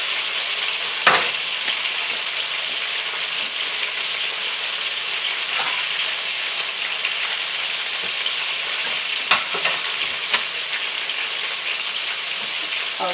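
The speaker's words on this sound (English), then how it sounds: "they think it takes so much oil to fry chicken" Chicken wings sizzle steadily in a thin layer of olive oil in a frying pan, with a constant crackling hiss and occasional sharper pops and clinks throughout.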